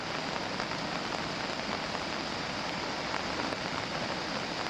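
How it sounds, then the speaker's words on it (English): Heavy rain pouring down during the Brisbane floods at Kalinga Park, a dense, steady hiss of rain on surfaces that holds unbroken throughout, with no voices. "the rain keeps coming down"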